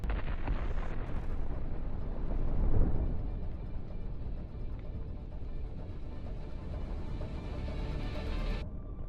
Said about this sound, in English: The explosion is so strong that the armored hull is shattered and scattered in mangled